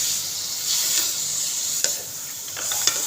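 Onion and eggs fry in a pan with a steady close sizzle and hiss, broken by a few brief scrapes of stirring; no talking.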